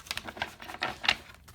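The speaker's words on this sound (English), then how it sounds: "we're going to do two more shuffles." A brand-new tarot card deck being shuffled, giving quick soft riffling patters in short bursts, close and quiet with no talking.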